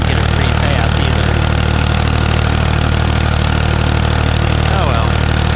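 Tractor engine of an open-station tractor planting corn, running loud and steady at close range with a constant low drone. Faint voice-like traces appear under the engine.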